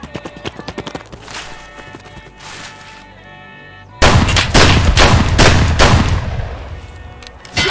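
Shotgun blasts in Escape From Tarkov on the Woods map, a scattered run of sharp reports, moderate at first, then a louder, denser volley of close shots in the second half.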